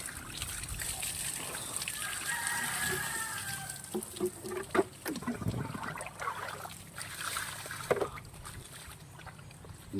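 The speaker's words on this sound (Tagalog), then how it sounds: "Hindi nakakasawa ang tubig, may kusit." Spring water at a Baybay City spring in the Philippines trickles and splashes steadily, fairly faint, with scattered splashes and soft background voices.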